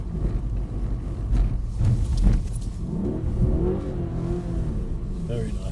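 A car's engine revs and surges as it slides across a very slippery silicone resin surface, a steady rumbling drone with rising pitch, while people talk over it.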